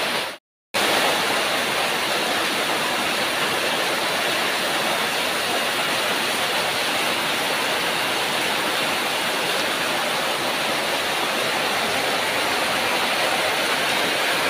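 Heavy rain pours down steadily on a Konkan village, a dense, loud, unbroken roar that continues alone after a brief silent gap at the very start.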